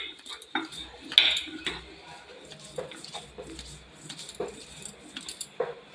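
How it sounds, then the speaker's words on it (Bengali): Ginger and garlic being ground into a paste by hand, scraping and knocking sounds with clinks of metal at irregular intervals, moderately close, with faint background noise. "আদা রসুনটা সুন্দর করে বেটে নেব।"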